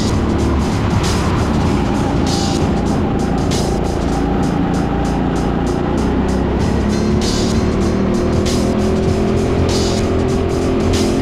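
Karts race in the TeamSport Sheffield Grid Series with loud, close, constant engine whine and roar and repeated brief tire squeals through the corners.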